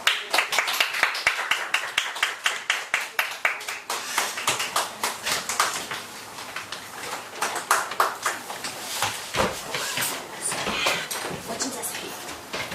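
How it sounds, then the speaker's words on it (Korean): Congregation applause in a church during a Thanksgiving Sunday service, welcoming children, with rapid rhythmic clapping that swells and thins over several seconds, moderately loud. "우리 박수로 맞이하겠습니다."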